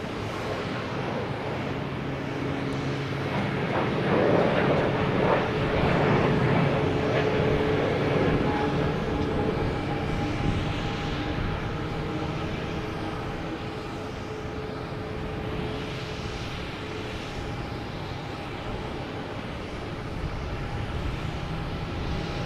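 An airliner landing at Boston Logan airport produces a sustained, moderately loud engine rumble with a droning tone, swelling slightly early on, then holding steady.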